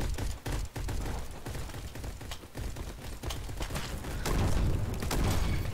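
Rapid bursts of gunfire from a shooter video game, dense overlapping shots and booms running steadily throughout at fairly close range, with no talk over them.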